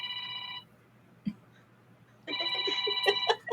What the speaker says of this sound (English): My phone's normally going off the hook.